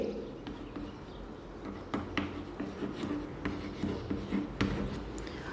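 Pen on paper writing a formal letter in English, a quiet steady scratching and scribbling with small taps as strokes begin and end, heard close and without talk.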